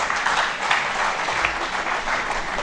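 A crowd claps for an award recipient at a horticulture conference's valedictory ceremony at a university, a short burst of steady, moderately close applause with no voices over it.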